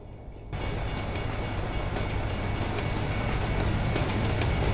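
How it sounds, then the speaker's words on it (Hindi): A train rolls through a railroad crossing in American Truck Simulator as a continuous, close rumbling clatter that cuts in after a brief moment and builds steadily louder with no talking. "अब हमारे सामने से ट्रेन जाएगी"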